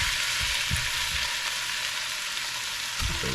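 Canned corned beef sizzles steadily in a hot pan, a constant loud hiss of frying fat with a few soft scraping knocks underneath.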